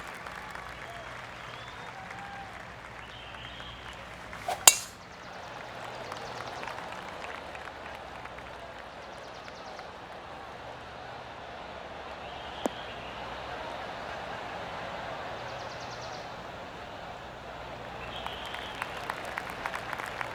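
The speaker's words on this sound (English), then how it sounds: "Oh, golf clap." Soft, polite scattered golf clapping in PGA Tour 2K23, faint and distant, with a couple of sharp clicks and a low murmur beneath.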